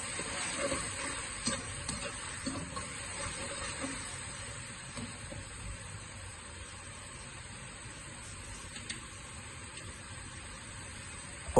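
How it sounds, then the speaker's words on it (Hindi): Ground spices, red chilli, coriander, cumin, chicken powder and peppercorns, fry and hiss in a pan while a utensil stirs them now and then, a faint, steady sizzle with light scraping ticks and no talking. "1 टीस्पून लाल मिर्च, 1 टीस्पून धनिया पाउडर, 1 टीस्पून ज़ीरा, 1 टीस्पून चिकन पाउडर और 2 गोल मिर्चें शामिल करके उन सब मसालों की अच्छी तरह भुनाई करूँगा"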